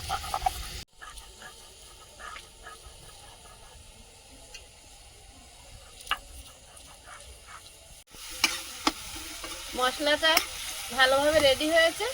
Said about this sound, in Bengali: একটু জল দিয়ে মশলাটা ভালো করে গ্রেভি করে নেব